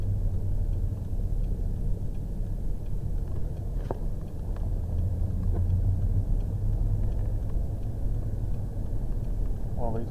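Audi R8 on a track during a driving course, its engine giving a steady low rumble throughout, loud and continuous with a few brief higher mechanical whines over it.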